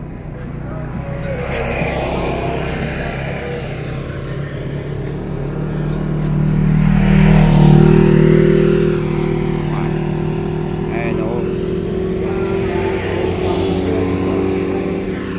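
A motor vehicle drives past on a freshly turned sandy trail, a droning engine rising to a loud peak midway then fading, with people talking over it.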